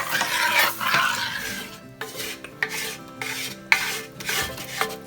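A spoon stirs roux into a gumbo stew in a pot, scraping and rasping in repeated strokes with occasional metallic clinks against the side, fairly close and with no talking.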